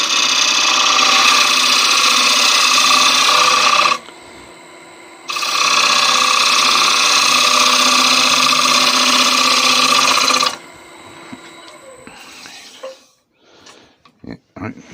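A woodturning lathe trims the edge of an oak or Spanish chestnut bowl: two loud, sustained cuts of steady whirring and scraping separated by a short pause, then quieter intermittent clatter.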